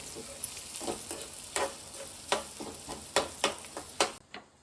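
Onion and bombil fish frying in hot oil give a steady, close sizzle, broken by repeated sharp scraping clicks as the pan is stirred at an uneven rhythm, with no talking.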